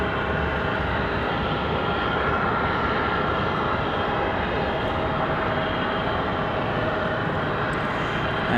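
Steady, loud engine roar of a United Airlines jet rolling for takeoff at Raleigh-Durham airport, a dense broadband rumble that holds even for the whole stretch with no talk over it.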